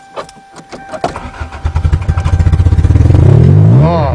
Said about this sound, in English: so now let's see if it cranks